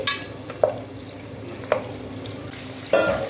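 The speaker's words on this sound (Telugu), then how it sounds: "ఇదిగోండి కేజీ మటన్ ఈ నూనెలో వేసుకొని" A kilo of mutton fries in hot oil for Delhi-style nihari, giving a soft continuous sizzle with three sharp stirring scrapes of a utensil against the pot.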